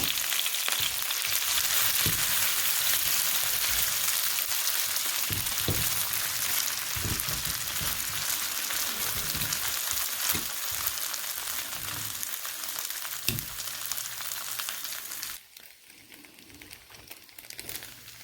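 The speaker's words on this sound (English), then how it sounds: "I then added about a half a bag of shredded hash browns to the bacon grease." Half a bag of shredded hash browns fries loudly in hot bacon grease, a dense crackling sizzle that carries on for about fifteen seconds and then drops away quickly.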